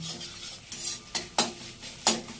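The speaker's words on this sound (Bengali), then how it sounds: "একটা ডিম দিয়ে দিয়েছি, ডিমটা নিয়ে এবার ভাজছি।" Egg frying in a wok, a soft sizzle broken by several quick scraping stirs of a spatula, close and clear.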